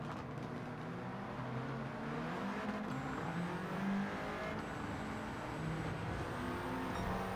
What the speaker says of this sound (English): Braking heavy through the gears.